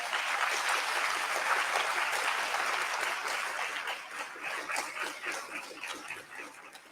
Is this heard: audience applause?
yes